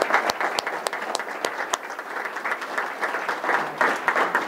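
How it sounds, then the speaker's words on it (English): Audience applause at a city's State of the City address, a dense, steady wash of clapping from a crowd with a few sharper claps near the start, moderately loud throughout. "Let us give this lady an applause."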